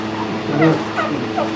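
On a turkey farm, turkeys gobble in short, rapid, warbling bursts, close and fairly loud, with a few calls overlapping.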